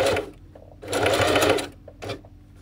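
A Singer 4411 domestic sewing machine stitches slowly over a thick denim jean hem seam, giving close mechanical whirring bursts with short pauses between them.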